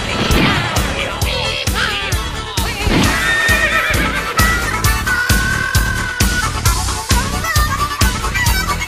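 A horse whinnies in a cowboy-themed radio station jingle over loud, driving music with steady, punchy drum hits throughout.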